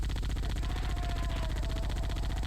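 Dropship turret fire in a Halo game, a dense rapid stream of automatic shots pulsing without a break, steady and fairly loud.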